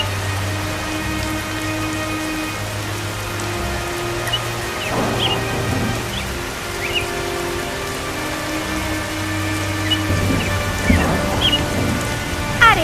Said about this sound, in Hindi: पंखों में बारिश की बूंदों की चोटें लगती हैं।